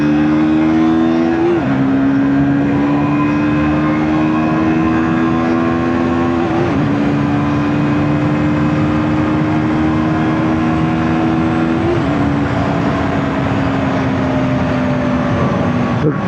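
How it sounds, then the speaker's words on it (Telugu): A KTM RC 160 motorcycle accelerates hard from a standstill toward 100, its engine whining higher through each gear with three clear shifts, loud and close, and no talking. "సో ఒకసారి బండి ఒక పికప్ చూసుకుందాము. 0 to 100."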